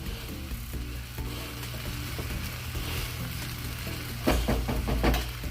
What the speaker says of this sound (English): we're gonna let that cook for a little bit, as they cook in, toss it around